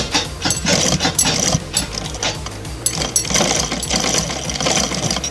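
A sewing machine stitches a kurta with a rapid, steady mechanical clatter of needle and gears, close and continuous with slight pauses, and no talking.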